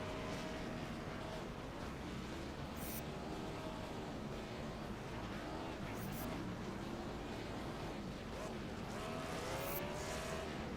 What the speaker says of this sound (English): Doing some sweet, sweet burnouts.